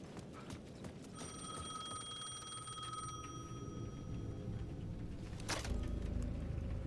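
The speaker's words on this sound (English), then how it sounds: "The payphone at the edge of the plaza was ringing again." A payphone at the edge of a plaza rings in Alan Wake 2, a thin, steady electronic ringing tone held for a couple of seconds at moderate distance over dark ambient rumble.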